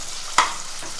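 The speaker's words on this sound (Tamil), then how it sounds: "ஒரு 2 நிமிஷம் இந்த ஆனியன் இந்த ஆயிலில் குக்காக இருக்குது" Small onions cooking in oil over a low flame for a Tamil fish kulambu. A brief sharp stirring clack lands amid a soft, steady sizzle.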